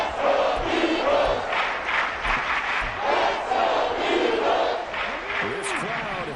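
Football stadium crowd roaring during a Cowboys goal-line play, a dense sustained wall of cheering and yelling rising and falling, with a commentator's voice over it.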